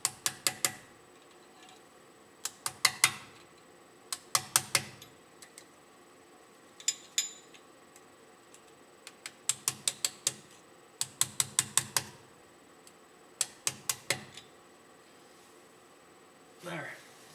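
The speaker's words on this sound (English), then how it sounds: "And some light tapping, just because it's not perfect." A bearing C-clip is lightly tapped into a nut on the ball joint hub of a 1996 Ford F250 7.3L diesel 4x4, producing clusters of sharp, close metallic taps in rhythmic groups separated by short pauses.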